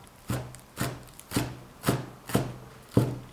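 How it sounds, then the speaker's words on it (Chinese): A kitchen knife chops a bunch of scallions into fine pieces on a cutting board, six evenly spaced thuds landing about every half second, close and clear. "一把小葱，切成碎一点的葱花"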